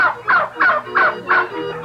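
Turkeys gobble repeatedly in a crowded farm pen of some 1,200 birds, five loud, rhythmic bursts following one another in quick succession with no talk.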